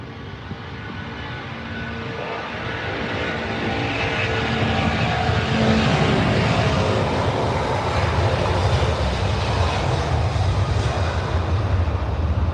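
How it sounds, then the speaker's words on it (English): Jet aircraft engines at Heathrow airport spool up slowly, a broad, loud roar swelling steadily and then holding at full strength with a deep rumble beneath. "You can hear how slowly they spool up."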